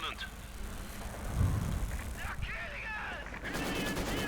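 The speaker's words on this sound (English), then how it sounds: "the Russians, though, are making good progress. Maxim firing away there." Maxim machine gun fire in the World War II strategy game Company of Heroes 2, bursts of gunfire mixed with other battle sounds and explosions under continuous commentary.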